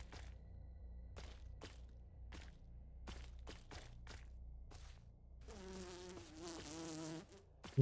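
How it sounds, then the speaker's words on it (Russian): A fly buzzes in the video game STALCRAFT, starting as a series of short, close buzzing bursts and ending in a longer, louder drone. "Да долбаная муха."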